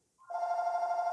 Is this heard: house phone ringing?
yes